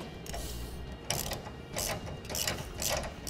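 A hand ratchet clicks in quick uneven bursts while snugging the bolts of a Curt TruTrack weight distribution hitch with sway control on a 2014 Chevrolet, close and fairly quiet, with no talking.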